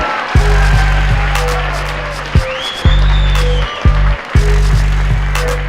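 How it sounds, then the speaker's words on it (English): Applause fills the hall at an FMD7 fight event after a unanimous decision, steady broadband clapping over a low droning hum, with a few sharp thumps punctuating it. "A round of applause for the sportsmanship."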